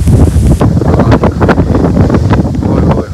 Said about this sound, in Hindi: ठंडी ठंडी हवा चल पी है।